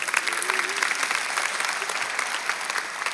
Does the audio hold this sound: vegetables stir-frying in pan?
no